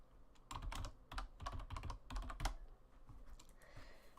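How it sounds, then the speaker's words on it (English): Rapid bursts of clacking keystrokes on a computer keyboard, close and fairly loud, arriving in quick irregular clusters with short pauses between them and no voices over them. "just give me a moment while I type."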